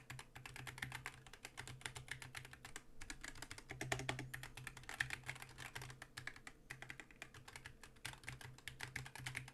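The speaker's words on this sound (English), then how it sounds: "I'm just messing with keys" Keys pressed steadily on a GMMK 2 ISO barebones mechanical keyboard, a dense run of quiet, rapid clicks and clacks with no talking.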